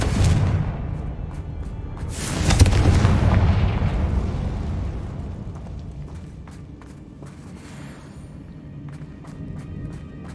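Confringo spell explosion in Hogwarts Legacy, a loud deep boom with a rumbling blast that fades into a long decaying roar, followed by light footsteps.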